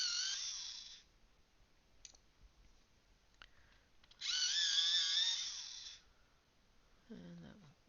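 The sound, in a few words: sharpening a Tris Vibes coloured pencil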